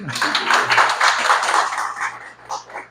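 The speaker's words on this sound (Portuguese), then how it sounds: "Palmas para eles, gente." A room of participants at a leadership training course in Betim breaks into steady applause, a dense continuous patter of many hands lasting a few seconds before tapering off.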